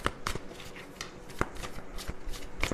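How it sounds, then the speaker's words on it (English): Oversized tarot cards shuffled by hand, with sharp riffling flicks and soft slides repeating in an uneven rhythm, close and clear, no talking. "These cards are big, so I have to shuffle them this way."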